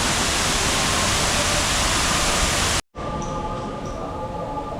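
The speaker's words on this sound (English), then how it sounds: "We've got this amazing waterfall with koi fish just there." An evening waterfall splashes into a koi pond at Longshan Temple in Taipei. Its loud, steady rush breaks off briefly, then continues as a softer, even wash of falling water.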